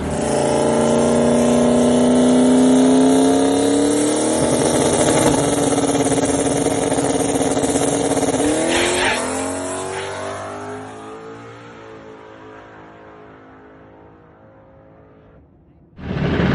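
A turbocharged SBE 4.8 drag race car on about 24 pounds of boost roars loudly down the strip with rising revs, then its sound fades into the distance before a sudden loud burst at the end.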